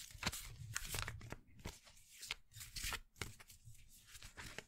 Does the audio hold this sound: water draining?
no